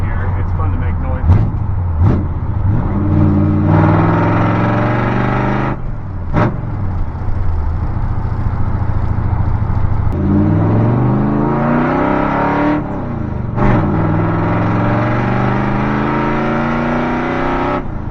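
Chevy C10 pickup truck with a 454 big-block V8 revving hard and accelerating through rising gear pulls, loud and close, with brief pauses between shifts.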